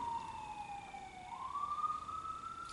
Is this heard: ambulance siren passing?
yes